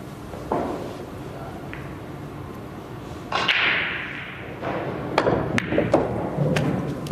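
A cue strikes a ball on a pool table during a professional billiards match, giving a sharp tap followed by a series of clicking ball-on-ball and cushion knocks in a quiet hall.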